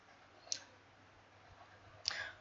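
Two sharp, quiet computer mouse clicks about one and a half seconds apart while selecting a toolpath in Mastercam CAM software, close to the microphone over faint room hiss.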